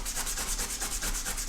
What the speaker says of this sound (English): So I scrub the inside and the outside.